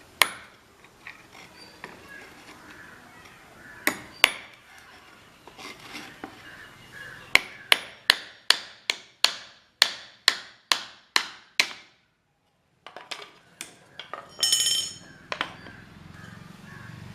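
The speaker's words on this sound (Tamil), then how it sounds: "இப்போ நம்ம 4 பக்கம் ஆணி அடித்து ஃப்ரேம் செஞ்சிட்டோம்." A hammer drives nails into a wooden screen printing frame with sharp close knocks, first a few spaced blows, then a steady run of about a dozen even strikes, a short silence, and some handling clatter.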